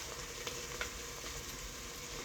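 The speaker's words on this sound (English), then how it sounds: "you could scrape your spoon along the bottom and make sure all that's been" A spoon scraping browned fond off the bottom of a pot of carne guisada, heard as a faint, steady sizzle and scrape with a few soft taps.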